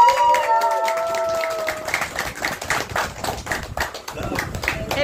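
Guests clap at a family ring ceremony at a wedding in Jispa, with loose, uneven handclaps that start sparse under a few sustained tones and grow busier, with some chatter and thumps mixed in.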